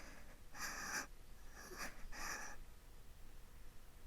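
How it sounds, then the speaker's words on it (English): A female character in the visual novel Sabbat of the Witch pants breathily, with three short, airy bursts of breath close up and alone, then quiet. "And why is she panting?"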